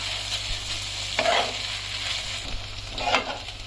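Noodles cooking in a pan, with a continuous soft sizzle and a few louder scraping stirs near the start and end, close and without talk.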